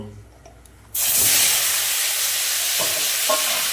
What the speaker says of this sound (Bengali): এবার বেগুনগুলো একটু ভেজে নেব